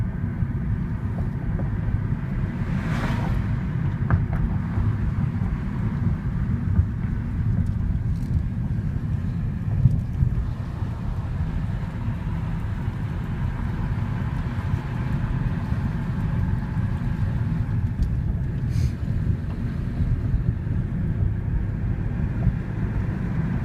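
A car heads down a mountain road from Donner Pass toward Donner Lake, its engine and road noise a steady low rumble throughout with no talking.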